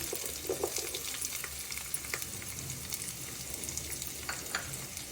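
Finely chopped onions fry for a paneer matar curry, producing a faint, steady sizzle with occasional light scrapes and clicks of a spoon in the pan.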